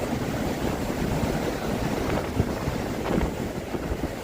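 Cold winter wind at Niagara Falls gusts against the microphone in a continuous broadband rush, rising and falling slightly throughout, with no talking.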